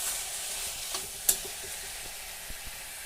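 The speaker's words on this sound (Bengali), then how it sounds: "নেড়ে চেড়ে নেড়ে চেড়ে অনেক সময় ধরে আমি ভালো করে এটাকে টানাবো" Squash stir-fried in a pan, a quiet steady sizzle with a few soft scrapes and one sharp clink of the spatula against the pan.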